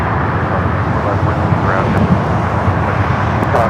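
Boeing 787 airliner at LAX, a loud steady jet engine roar with a deep rumble, close and continuous for the whole stretch.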